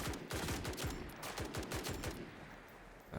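Rapid automatic gunfire from the Roblox FPS game BRM5 rattles in quick bursts of sharp shots, fairly steady for two seconds before easing off into a quieter background.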